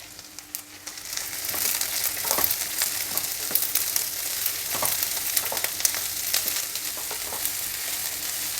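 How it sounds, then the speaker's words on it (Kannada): Chopped bajji chillies, seeds left in, fry in hot oil in a pan with a continuous bright sizzle that swells after the first second, broken by occasional stirring clicks and scrapes. "ಈಗ ಎಣ್ಣೆಯಲ್ಲಿ ಬೋಂಡ ಮೆಣಸಿನ್ಕಾಯಿ ಹಚ್ಚಿರೋದನ್ನು ಹಾಕಿದ ಮೇಲೆ ಚೂರು ಫ್ರೈ ಮಾಡಬೇಕು"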